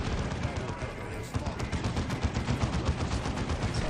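Dense, rapid gunfire with a heavy grenade blast from the Dawn of War 2 strategy game, a loud continuous barrage of overlapping shots and bursts with no break throughout.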